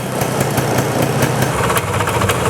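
A Vespa scooter engine idles steadily up close, a continuous buzzing putter with no talking over it.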